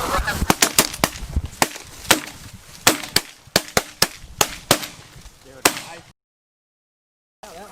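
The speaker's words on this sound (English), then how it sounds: "we just had a bunch of geese come over us" Loud, sharp cracks come in an irregular burst while geese honk overhead during a goose hunt. The sounds come in a quick run of about a dozen, then stop abruptly and leave silence.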